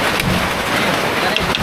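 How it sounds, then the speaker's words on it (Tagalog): Heavy rain pours steadily during a typhoon around a hanging tree house, a dense, continuous hiss close by with a few brief thuds of drops hitting surfaces. "Hindi pa talaga tumila yung ulan."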